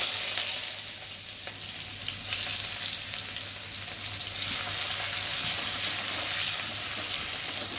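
Chopped onion dropped into hot oil with whole cumin seeds, sizzling and frying loudly and continuously, with faint scraping and stirring, no talk.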